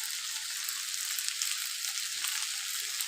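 Vegetables frying with red chili powder give a constant, close, bright sizzle with faint stirring movement underneath, steady and unbroken, with no voices.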